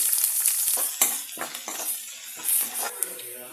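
Close, bright sizzling of fennel seeds and chopped onion frying in hot oil for egg curry, with scattered crackles and a few stirring scrapes, steady hiss throughout.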